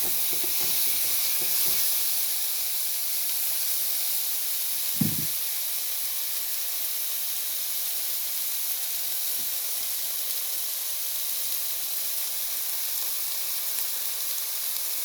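Vegetables wilt in a hot pan with a steady, broad sizzle that hisses evenly through the whole stretch at moderate, close level, broken once by a brief clatter; no voices are heard.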